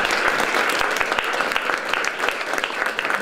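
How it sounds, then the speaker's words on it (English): Audience applauding the owner of the Mercury Cafe in Denver at a talk event, dense steady clapping with sharp individual claps standing out, loud and continuous throughout. "Round of applause, please."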